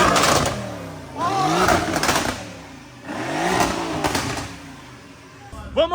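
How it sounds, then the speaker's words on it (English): A car with a straight-pipe exhaust revs up and down in several rising and falling pulls, loud and close. People talk over the engine. "We're gonna rev it anyway so we can hear it."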